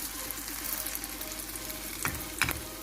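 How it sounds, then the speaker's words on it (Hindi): A shami burger patty fries gently in a pan over low heat, a soft, steady crackle with two louder spatula scrapes near the end, no speech. "हल्की आंच पे इसको फ्राई करना है"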